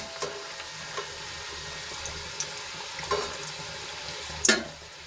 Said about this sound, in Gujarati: એવી જ રીતે આપણે બીજી કચોરીઓ પણ તળી લેશું